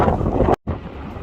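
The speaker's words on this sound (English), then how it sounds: "New Mexico's still windy" Strong New Mexico wind buffets the microphone in loud, rough gusts, broken by one abrupt fraction-of-a-second dropout before the roaring resumes.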